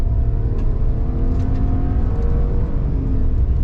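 A 2022 GMC Sierra AT4X pickup in four-wheel auto, driven fast off-road in intense heat, giving a continuous loud engine roar and tire rumble that swells slightly as it presses on.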